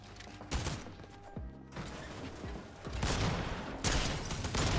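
Gunfire in a Fortnite-style shooter game, several sharp shots spread across the clip with loud bursts near the end over a steady game background, no talking.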